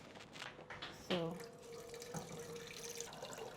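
Water runs and splashes into a bin at a cooking competition, a steady pouring hiss with a brief clunk near the start, under light background noise.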